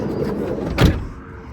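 A 2015 VW California camper door draws shut under its soft-close mechanism, heard as a short motorized whir with a soft muffled thud midway, close by.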